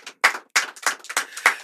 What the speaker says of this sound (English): Please a round of applause for my guests.